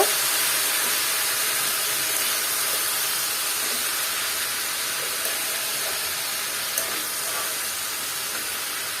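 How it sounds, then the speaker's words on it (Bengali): Bitter gourd and potatoes with turmeric being stirred in a frying pan: a loud, steady sizzle hisses throughout, broken by faint scrapes and a couple of small taps near the end. "এখন এটাকে আমি আবার একটু নেড়ে চেড়ে মিক্স করে নিব"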